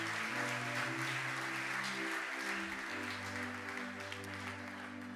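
A congregation claps together during a Sunday church service, a steady dense wash of applause running throughout, with sustained organ or keyboard tones underneath.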